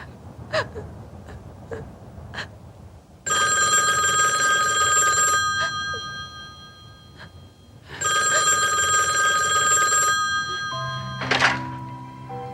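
A telephone rings indoors in a 1989 French-dubbed horror film, two long loud bursts of electronic bell tone separated by a pause, with a few soft thumps and a gasp around them before a final rising chime.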